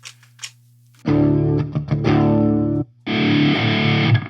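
Distorted electric guitar run through a Quad Cortex amp modeler on a California Tremo Red preset, loud sustained chords in two bursts separated by a short gap, with faint quiet tones before the first chord.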